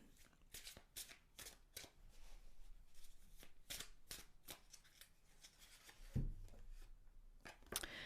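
Osho Zen tarot cards are shuffled by hand in a steady run of quiet riffling flicks and soft slaps, close and faint, with one louder thump near the end.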